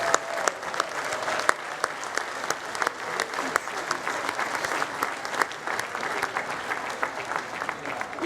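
A large outdoor commencement audience at Harvard University applauds the class of 2015 with continuous, even clapping and a few sharper nearby claps, sustained for over eight seconds.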